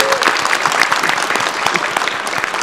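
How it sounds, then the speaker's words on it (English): A packed audience at a PAX East convention panel claps loudly and steadily, a dense crowd applause with a few sharper individual claps standing out throughout. "Round of applause."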